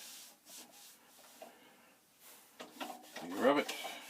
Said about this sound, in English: you rub it on, and like magic, a lot of the crap goes away